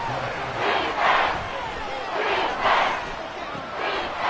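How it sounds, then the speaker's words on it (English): Virtual stadium crowd in Madden 24 football roaring in repeated swelling waves, a loud, continuous wall of cheering that rises and falls about every second and a half. "This crowd turning up the decibel level."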